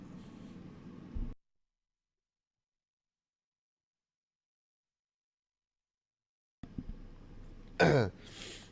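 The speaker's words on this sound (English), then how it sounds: "Sometimes I have a little cough." A small, short cough on a fishing boat in the North Atlantic, close and brief after a long stretch of silence, preceded by a faint earlier throat sound.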